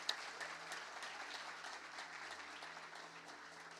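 Soft, steady applause from a church congregation, a dense patter of clapping at moderate distance that continues evenly for several seconds.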